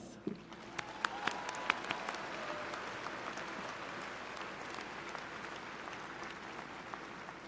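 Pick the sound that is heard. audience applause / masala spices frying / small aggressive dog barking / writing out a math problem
audience applause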